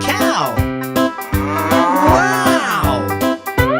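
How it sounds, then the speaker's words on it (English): A cow moos in a long, loud, wavering call on a farm, backed by a steady rhythmic beat and other harmonic tones, as in a children's farm-animal song. "I see a cow."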